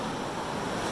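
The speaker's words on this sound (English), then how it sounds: "we are being bombarded by waves right now" Ocean waves surge and crash at a sea cave entrance on a beach, a continuous dense wash of surf with wind buffeting the microphone, loud and close with no voices.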